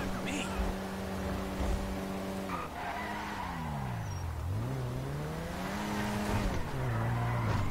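Car in Grand Theft Auto V revving and sliding, its engine pitch rising and falling through turns with tyre skids, loud and close, with someone talking over it.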